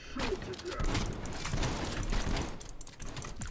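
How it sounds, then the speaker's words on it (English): Shotgun fire rings out in the video game Call of Duty: Black Ops Cold War as a cluster of sharp, rapid blasts that crowd together in a busy stretch of combat noise, with players talking over it. "Eat my shotgun"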